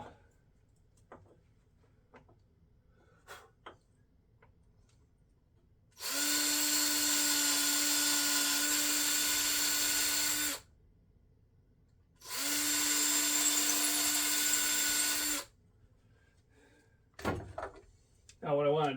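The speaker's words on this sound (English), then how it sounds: "I can drill them out now." A power drill bores holes in a knife handle in two sustained bursts of several seconds each, a loud steady whine with a low hum, separated by quiet pauses with light clicks and handling noises.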